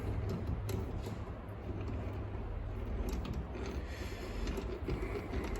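A Vevor 8 inch rotary table has its handwheel wound in and out, giving a continuous soft mechanical whirring and light clicking of gears that runs close and steady throughout, with no talk.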